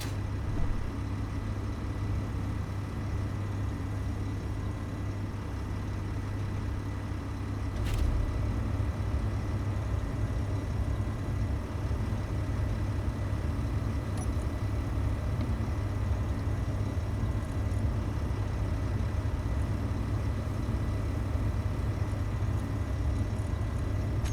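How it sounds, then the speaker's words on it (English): Hydrogen engine from the Space Engineers game running steadily, a low continuous droning hum with an even level throughout and no voices. "Oh, that seems to have fired up the hydrogen engine"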